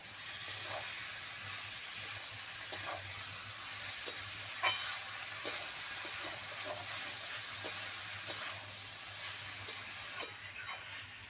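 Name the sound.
boiled banana flower mixed with spices in a pan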